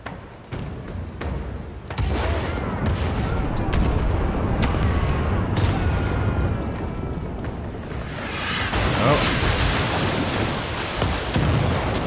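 A video-game ship's starboard cannons fire in a loud barrage: sharp booms crack in a ragged sequence, then merge into a sustained, rumbling roar of gunfire and blasts.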